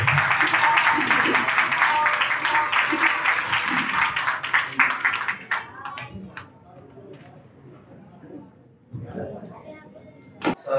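Audience applause at a Christian gathering as Pastor Akram Younis Gokar is called forward: dense, steady clapping fills the first five seconds, then thins to a quieter room with scattered knocks and a few fluttering sounds.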